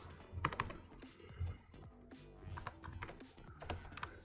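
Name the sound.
typing on a computer keyboard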